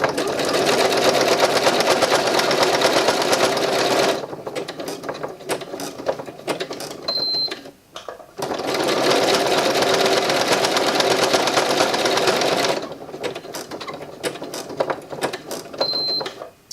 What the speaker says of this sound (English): I'm just going to go in and do a few more circle stitches just to make sure that that is really sturdy.